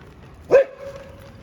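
A single short dog bark rings out over a low background murmur, followed by a faint trailing whine.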